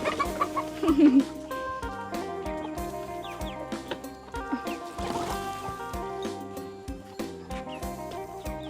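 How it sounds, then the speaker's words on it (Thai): Many large chickens at a poultry farm cluck in a dense, overlapping chorus, close and steady throughout, with a voice faintly mixed in. "ตรงนี้ก็จะเป็นไก่ตัวใหญ่เลยนะคะ"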